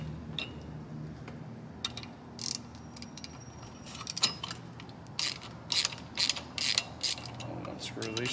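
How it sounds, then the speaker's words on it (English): Screws being unscrewed from the steering wheel of a 1991 Cadillac Fleetwood Brougham, clicking and ratcheting with short scratchy bursts, close, with a few faint voice sounds. "Unscrew these screws here."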